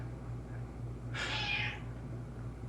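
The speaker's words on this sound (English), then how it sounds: "Is that your cat screaming?" A domestic cat lets out one loud, drawn-out yowling meow in the background of a quiet room, rising and trailing off, followed by a sharp bump at the very end.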